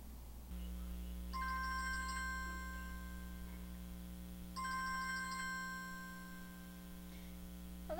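A phone rings on an outgoing call, two long electronic ring bursts separated by a pause over a steady low hum, loud and close with no talk.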